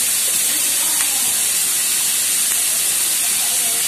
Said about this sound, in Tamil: குடமிளகாவும் ரொம்ப வதங்கக்கூடாது, ஒரு 2 நிமிஷம் வதக்கினா போதும்.